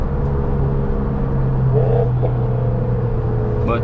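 Just ahead, a BMW 440i with an upgraded turbo accelerates with a steady, loud engine drone and rising whine that is heard from a following car, under constant road rumble.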